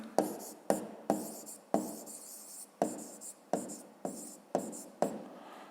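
Handwriting on paper while working through a fifth-grade math exercise: a series of about ten quick, scratchy pen strokes, each starting with a crisp attack and trailing off, close and fairly quiet with no talking.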